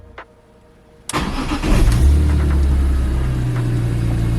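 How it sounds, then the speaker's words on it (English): BMW E46 M3 with a manual swap cranks briefly and fires up without the clutch pressed, settling into a steady, loud idle close by after a quiet start. "Without pressing the clutch pedal, I can just turn the car on."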